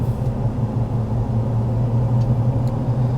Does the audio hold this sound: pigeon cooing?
no